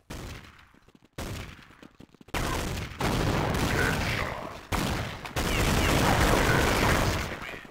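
Rapid automatic gunfire in Counter-Strike on the de_tuscan map, loud dense bursts of shots with short gaps between them, then near-continuous firing to the end.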